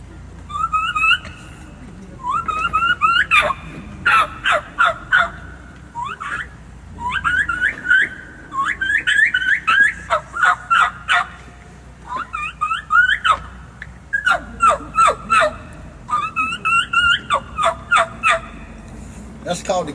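Rapid series of high, whistled turkey kee-kee notes imitated by a call, repeated in bursts with short pauses, close and clear over faint background noise.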